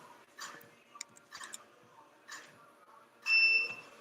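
A workout interval timer at a home back and biceps session gives faint scattered ticks and clicks, then a short loud electronic beep near the end.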